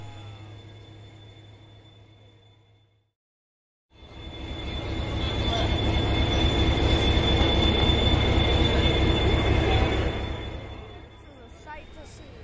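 An Irish Rail 071 class locomotive, number 071, pulling into platform 4 at Connolly Station. After a brief lull, a loud rumble builds and holds with squealing wheels, then eases off toward a quieter tail.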